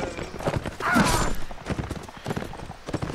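Horse hooves clatter in the Mount & Blade Warband video game, a run of quick clip-clop beats with a brief whinny-like burst near the start, fairly close amid battle noise.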